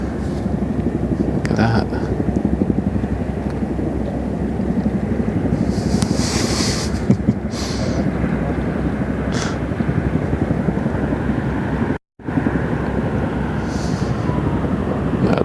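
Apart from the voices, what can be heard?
Dutch army Chinook helicopters flying past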